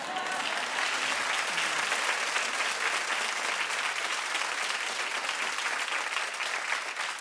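Studio audience applause at a daytime talk show, steady sustained clapping from a large crowd filling the room at an even level throughout, with no voices on top.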